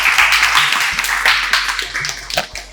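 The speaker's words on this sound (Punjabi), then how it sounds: "ਸੋ ਜ਼ੋਰਦਾਰ ਤਾੜੀਆਂ ਸਾਡੇ ਪੁਰਾਣੇ ਖੁੰਡ ਲਈ ਲਾ ਦਿਓ" A crowd in a Punjabi college setting bursts into hearty applause for a guest, with dense, continuous clapping heard close and loud throughout.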